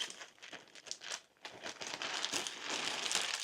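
Plastic wrapping around a Gucci scarf crinkles and rustles as the package is opened, close and continuous with a short pause before a louder stretch of crumpling.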